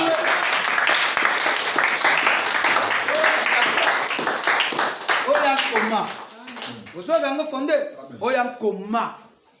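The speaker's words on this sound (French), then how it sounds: "Oh, soyez acclamés très fort." A church congregation applauds loudly for several seconds, a dense wash of clapping that thins out as a voice and cheering break through and take over toward the end.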